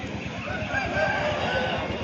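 A fighting rooster of the aseel breed, crow-and-hawk coloured and about four kilos, crows at a Sunday chicken market in Pileru, its call loud and close over a dense bed of market chatter and clucking.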